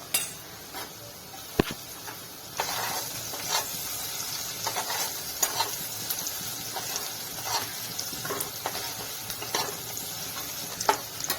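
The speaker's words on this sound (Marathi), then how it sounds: "कांदे 3-4 मिनिटं चांगले परतवून घ्यायचे" Onions sautéed in a pan for kanda pohe: a steady frying sizzle under repeated scraping and tapping of a spoon as they are stirred, close and moderately loud, with no one speaking.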